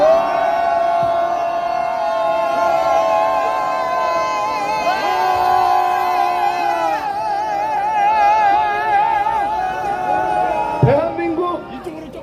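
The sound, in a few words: crowd shouting a cheer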